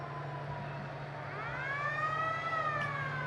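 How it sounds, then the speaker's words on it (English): Wailing fire engine siren from an old Tumwater Fire Department engine rolling in a holiday parade, rising and sweeping through its pitch, growing louder as it nears over steady low street rumble, with no talk. "It's another one from the Tumwater Fire Department."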